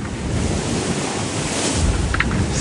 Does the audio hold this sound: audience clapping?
no